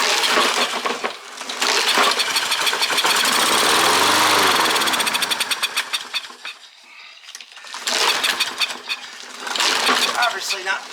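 A push lawn mower's small engine sputters, catches and runs unevenly, rising to a loud roar, dropping away briefly and revving up again close by.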